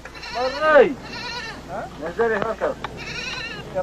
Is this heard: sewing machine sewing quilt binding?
no